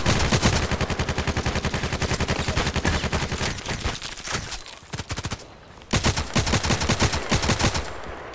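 Dense, rapid automatic gunfire from the online shooter game Contract Wars, long bursts of fast repeating shots with a brief lull midway before the firing resumes, no talking.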